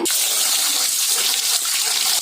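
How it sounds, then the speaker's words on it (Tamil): Basmati rice is washed under running water, a steady close rush of pouring water and sloshing that lasts throughout with no talk. "இப்ப என்ன செய்யறேன்னா இந்த அரிசியை 2 தடவை கழுவிக்கலாங்க."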